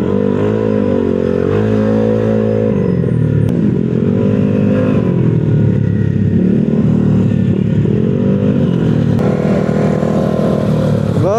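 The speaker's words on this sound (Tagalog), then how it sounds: "Grabe yung tambutso niya, oh," A custom Vespa scooter with a 232 build and a big, loud exhaust revs hard and close by. The engine note rises and falls through repeated throttle blips, deep and rasping, with no talk.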